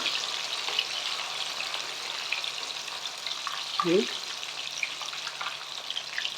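Avare bele mixture frying in hot oil over a high flame, a steady, close bubbling sizzle with a brief louder splash midway as more batter drops in.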